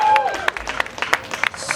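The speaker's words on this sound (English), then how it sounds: "Clap it up for Ghana." An audience claps for Ghana at a large Juneteenth celebration in a brief spatter of scattered hand claps and crowd noise that follows a trailing voice.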